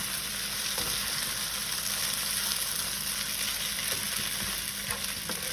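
Macaroni and eggs fry in a pan with a loud, unbroken hissing sizzle and occasional soft crackles from close range, with no one speaking.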